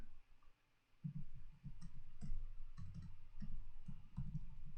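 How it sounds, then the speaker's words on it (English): Soft clicking taps come in quick irregular bursts, close and quiet, like keys pressed on a keyboard with short pauses between runs. "Sorry about all my little typing there."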